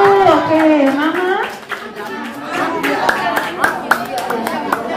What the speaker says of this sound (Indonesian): saya tepuk tangan dulu